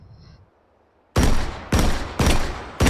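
Four loud, close shotgun blasts in the VR shooter game H3VR, coming at a steady pace about half a second apart after a brief quiet start. Each blast is sharp and heavy.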